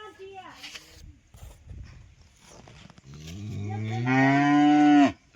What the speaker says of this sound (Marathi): गायांचा आवाज येतोय. हे बघा गाय आहेत, त्यांचा ओरडलेला आवाज येतोय.